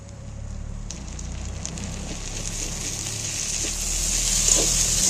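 Onion, green chilli and ginger paste frying in mustard oil in a pan, a soft continuous sizzle and crackle that swells slightly toward the end, with faint stirring scrapes and no talk.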